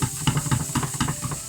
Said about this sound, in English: I'm going to whack the onions in